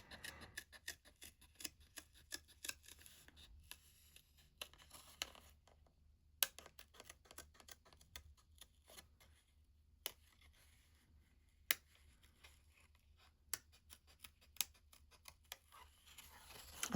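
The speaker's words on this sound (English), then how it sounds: "I do love my Pergamano scissors for this." Pergamano scissors snipping through paper, a series of sharp, irregular clicks and snips, close and fairly quiet, with pauses between cuts and no talking.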